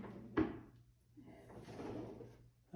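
A bathroom vanity drawer fitted with Hafele Blade Series hardware gets shut in a test, giving one soft, close thump followed by a faint sliding rustle in a quiet room.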